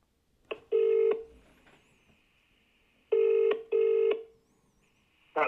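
A telephone keypad dials out a call to NATS, the air traffic service, with several loud, clipped tones in short bursts separated by brief gaps and faint hiss.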